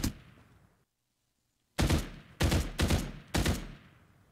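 Farlight 84 gunfire: a loud shot fading out, a silent gap, then four sharp, close, evenly spaced shots in quick succession.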